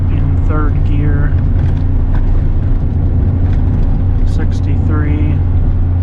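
Twenty-four-year-old pickup with an 8.1 gas V8, towing 18,000 pounds at 60 mph in third gear at 3,500 RPM, gives a loud, constant engine and road drone while someone talks over it.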